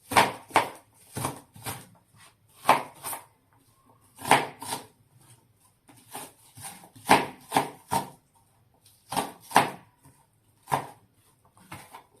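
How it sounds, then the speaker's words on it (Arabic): An onion is cut into wedges on a board for an oven-baked fish tray, giving close, crisp knife chops in irregular bursts of two or three strikes with short pauses between. "هنجيب البصل هنقطعه جناح"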